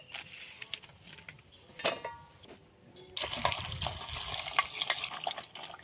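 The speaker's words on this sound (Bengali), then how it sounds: "ঢেঁড়সটাকে ভালো করে গোটা অবস্থায় ধুয়ে নেব।" Whole okra is washed by hand in a bowl of water: a few soft splashes and drips at first, then about three seconds of continuous close sloshing and swishing.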